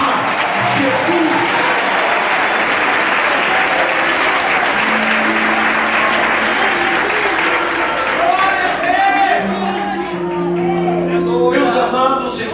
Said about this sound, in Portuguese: desocupem as suas mãos, batam palmas e glorifiquem a Jesus